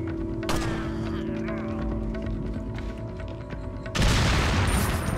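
Dynamite blast from an enemy-thrown stick of TNT in Resident Evil 4, a sudden loud broadband burst arriving near the end after a stretch of game noise and ambient tones.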